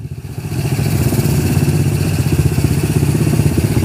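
Honda Astrea 800 motorcycle engine running close by, a loud steady idle with rhythmic mechanical clatter that builds slightly after the start, with no voices.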